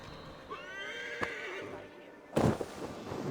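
Horse in Assassin's Creed Valhalla giving a clear, close whinny with a wavering pitch, followed by a sharp louder thud and scuffle, with brief game ambience around it.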